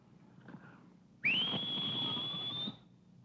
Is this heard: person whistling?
yes